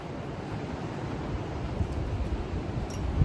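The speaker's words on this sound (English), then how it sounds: "It is so windy out here." Strong outdoor wind in Kansas roars and rumbles steadily across the microphone, a close, continuous buffeting with low gusty thumps and no one talking.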